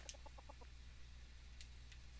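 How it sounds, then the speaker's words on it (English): Chicken clucking in the Minecraft video game, a quick run of short clucks near the start followed by a couple of thin high chirps, faint over a steady low background hum. "I heard a chicken."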